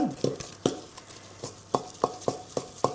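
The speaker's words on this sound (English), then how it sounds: "combine it with a wooden spoon, make a thick paste" A wooden spoon stirs thick cherry cake mixture in a bowl, giving about a dozen soft, close scraping strokes at an uneven rhythm with no talking.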